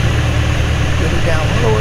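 Carbon Cub light airplane engine droning steadily during a low pass down the runway, a close, continuous mid-to-low hum with a pilot's voice talking over it.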